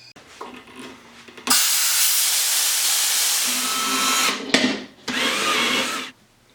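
Loud steady hiss of air filling a pressure pot up to 50 psi, starting abruptly, holding for several seconds, cutting off briefly, then resuming before stopping.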